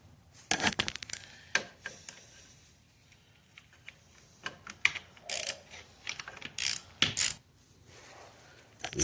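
A torque wrench ratchets on the oil drain bolt of a Kawasaki Ninja 400 motorcycle during an oil change, giving close, irregular bursts of sharp metallic clicks separated by short pauses, with no talking.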